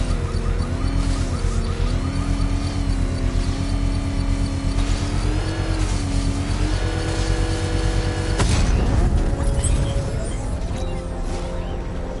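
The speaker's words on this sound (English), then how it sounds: "I can use the power winch to trigger a controlled explosion." A bomb payload in the Batman Arkham Knight video game detonates in a controlled explosion triggered by a power winch: a sudden loud burst near the end, rising over a steady droning engine and music bed.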